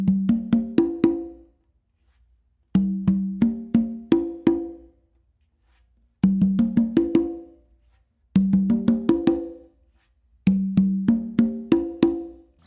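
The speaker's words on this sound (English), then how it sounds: "and then I do 2 opens on the conga with my dominant hand." Open tones on conga and tumba in a melodic funk groove: repeating phrases of four or five clear, resonant hand strikes that step between the two drums, close and dry, separated by short pauses, with no talk.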